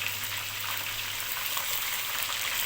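Chicken pieces frying in a pan while browning for Bukhari rice, a steady close sizzle and crackle of hot oil with fine popping throughout.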